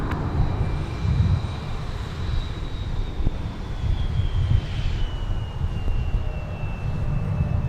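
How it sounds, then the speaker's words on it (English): An Embraer 175 LR regional jet operated by SkyWest departs at Minneapolis–St. Paul Airport with a steady, loud engine roar and a slowly falling whine that carries on throughout, with no voices. "Delta connection operated by SkyWest Delta 3792 to Chicago Midway. Embraer 175 LR."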